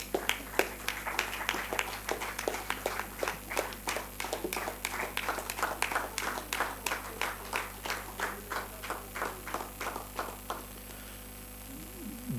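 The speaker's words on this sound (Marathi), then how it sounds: "टाळ्या वाजवून हात जरी लाल झाले असतील तरी थोड्याशा जास्ती टाळ्या वाजवू शकतो आपण डेफिनेटली" An audience applauds at a Rotary Club installation and award ceremony in Pune, a rhythmic run of claps fairly faint over a low hum, slowing and fading toward the end.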